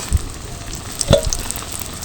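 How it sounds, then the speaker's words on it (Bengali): Potato pieces fry in a pan until reddish, with a steady close sizzle and a couple of soft knocks as they are stirred. "লাল লাল করে ভেজে নেবো।"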